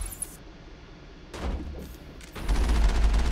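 Video game gunfire from Mass Effect, a burst of rapid shots at about 1.4 seconds followed by denser, louder sustained firing near the end, over a low game ambience.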